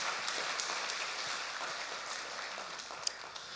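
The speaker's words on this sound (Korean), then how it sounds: "그러면 큰 박수 한번 합시다." Church congregation applauding during a Sunday worship service, a steady dense wash of many hands clapping throughout, moderately loud and continuous with no talk.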